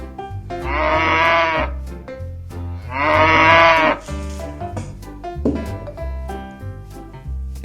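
A farm cow gives two drawn-out, nasal moos, each lasting about a second, loud and close over light background music.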